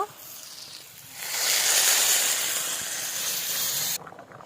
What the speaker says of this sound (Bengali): সুন্দর করে মটরটাকে কষিয়ে নিয়েছি এবার আমি জল দিয়ে দেব